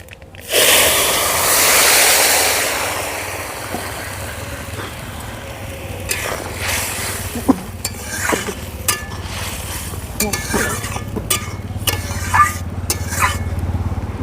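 Green tomato curry with puti fish poured into a mustard-oil tempering of mustard seeds and dry red chilli: a loud hissing sizzle bursts up at once, then settles into a steady fry with scattered clinks and scrapes of a utensil.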